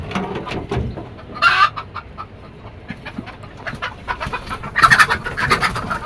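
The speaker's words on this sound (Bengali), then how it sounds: "আজকে আমরা চলে এসেছি মুরগির খামারে।" Chickens at a rooftop poultry farm cluck repeatedly in short irregular bursts, with two louder squawking flurries among steady background farm noise and no talk.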